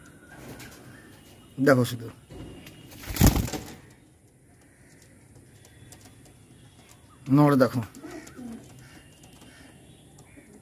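Pigeons coo in a few distinct, close, throaty bursts separated by quiet gaps, with a person talking briefly between the calls.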